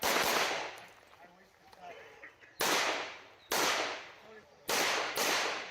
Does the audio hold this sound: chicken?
no